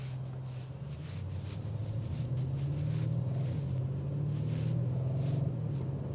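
A 2025 Audi RS7 Performance exhaust drones steadily from inside the cabin, a low, even rumble holding through the clip with slight swells in pitch and no talking over it.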